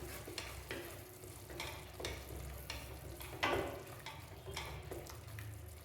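Cucumber tomato curry cooking in a pan, a low sizzle under repeated rhythmic stirring and scraping strokes about every half second, close and fairly quiet, with no talking.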